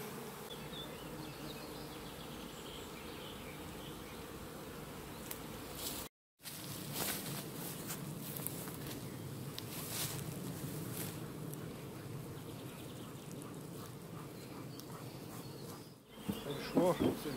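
Honeybees swarm around beehives with a dense, steady buzzing that persists at close range. The hum is broken briefly by a couple of short dropouts, and there is faint background voice-like sound.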